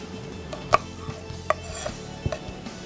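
A knife minces onion on a cutting board, making a few irregular, sharp chops and taps close by, with quiet scraping between them and no talking.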